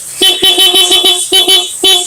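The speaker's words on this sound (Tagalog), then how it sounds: "Mag-start muna tayo sa kanyang stock horn." A stock car horn honks in a rapid series of short, loud, close bursts, about eight quick toots with brief gaps between them.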